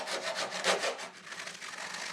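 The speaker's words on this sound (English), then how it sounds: "The next thing I need to do is just start filing away at this, dressing it down and tightening up these gaps ready for welding." Hand file worked along the edges of a metal control cabinet panel to close seam gaps before welding, a close, rhythmic rasping of repeated strokes, heard alone.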